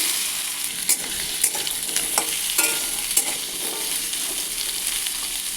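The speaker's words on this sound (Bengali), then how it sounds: "এবার আলুটাকে আমি ভালো করে ভেজে নেব।" Potatoes fry in hot oil in a wok, a steady close sizzle broken by several brief stirring clatters, with no voices.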